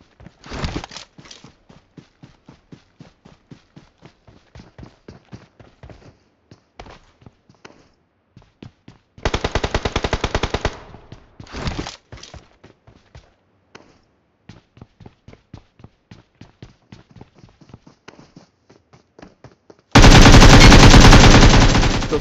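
AKM assault rifle fire in BGMI, with sharp single shots and short bursts spread through the clip, then a dense sustained volley near the end, loud and close with no talking.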